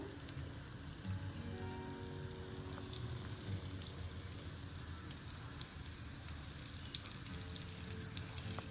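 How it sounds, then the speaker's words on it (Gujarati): Dal vada batter frying in hot oil, Ahmedabad-style lentil fritters, a soft, steady sizzle with scattered small crackles and pops that continue evenly throughout. "હવે આપણે વડાને ફ્રાય કરી લઈશું।"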